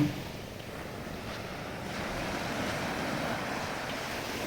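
Sea waves breaking on Palavakkam beach along the ECR coast, a continuous surf wash with wind noise, swelling slightly louder partway through and rolling on steadily.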